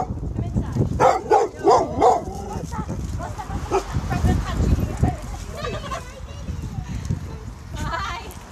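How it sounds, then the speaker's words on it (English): A dog behind a house window on a residential street barks in several excited bursts near the start and later in short yips, mixed with people talking outdoors nearby. "Oh, we've got a dog."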